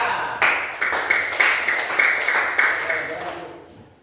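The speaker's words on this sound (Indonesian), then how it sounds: "Beri tepuk tangan untuk kelompok 2." A classroom of students claps for group 2 during a teaching practice session, a rhythmic series of roughly seven evenly spaced bursts of group clapping, close and fairly loud, fading at the end.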